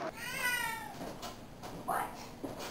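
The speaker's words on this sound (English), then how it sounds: "What are you doing to that poor cat?" A cat meows several times in a row, close by, with drawn-out cries and a brief gap between them, against a quiet indoor room.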